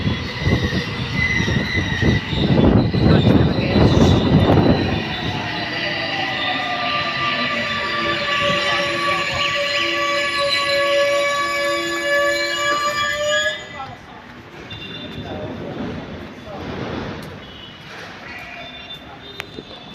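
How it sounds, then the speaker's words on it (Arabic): A metro train in Giza rumbles along with metallic wheel squeals and ringing tones, loud at first before the noise drops and settles into a quieter rolling drone, with faint voices in the carriage. "نركب المترو دلوقتي بقى."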